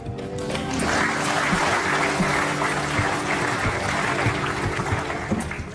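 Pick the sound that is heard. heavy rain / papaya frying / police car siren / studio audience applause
studio audience applause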